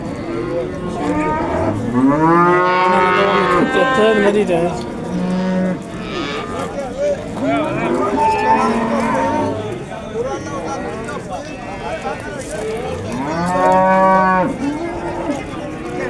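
Cows at the Chust livestock market give three long, loud, drawn-out moos spaced several seconds apart, close by, with people talking among the animals in between.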